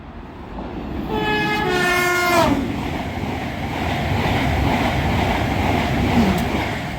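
An LNER Azuma express from Edinburgh Waverley to London King's Cross races through Northallerton, sounding a two-tone horn as it nears, then a loud sustained roar of wheels and rushing air as it passes close by.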